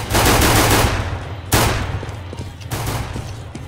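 Gunfire in Counter-Strike: loud, close bursts of rapid automatic shots, three volleys about a second apart, each fading quickly, with no voices over them.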